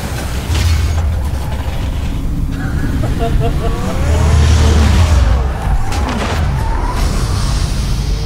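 The Batmobile in Telltale's The Batman game roars close with a heavy engine rumble and surging revs, broken by tire screeches and mechanical clunks, while a person talks over it.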